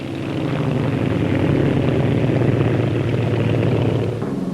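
A Bristol 173 twin-rotor helicopter fitted with small stub wings flies past at an air show, giving a steady, loud engine and rotor drone that holds for several seconds and then eases slightly at the end.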